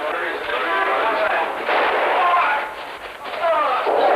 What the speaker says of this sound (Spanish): Han disparado sobre Oswald.